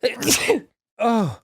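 A single loud, close human sneeze, followed after a short pause by a brief voiced exclamation.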